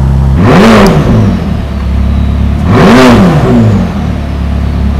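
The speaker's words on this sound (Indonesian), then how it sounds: "kita coba dengar suara knalpotnya seperti apa ya" A supercar's exhaust revs twice, each a loud rising-and-falling vroom about two seconds apart, over a steady idle rumble with no talking.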